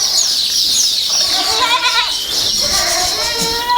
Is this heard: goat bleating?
yes